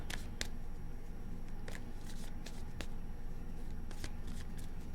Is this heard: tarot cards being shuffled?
yes